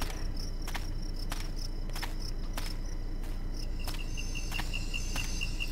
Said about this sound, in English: Boy, I like the sounds of the crickets